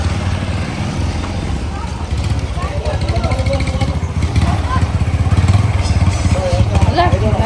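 Motorcycles idling together at a family birthday outing, a continuous low engine rumble running throughout, with several people chatting over it.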